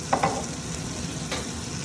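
Butter and olive oil sizzling in a hot pan, a steady frying hiss with a couple of soft clinks near the start.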